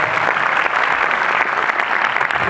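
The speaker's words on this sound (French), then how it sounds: "il faut l'applaudir également." Audience at a film presentation applauding, a dense, loud, steady burst of clapping from a crowd.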